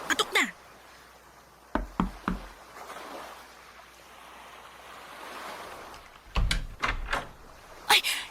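Knocking on the door of a house: a few sharp raps in short bursts, near and fairly loud, separated by quieter stretches of room tone.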